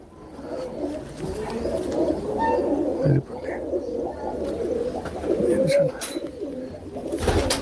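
Pigeons cooing close by in soft, repeated throaty calls, with some faint background chatter and a few brief knocks.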